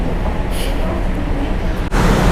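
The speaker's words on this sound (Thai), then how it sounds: "ตอนนี้ รถไฟมาแล้วนะครับ" A rumbling train rolls into a Thai station on the way to Ayutthaya with a continuous low roar and a brief high screech, loud and close, followed by a sharp clunk near the end.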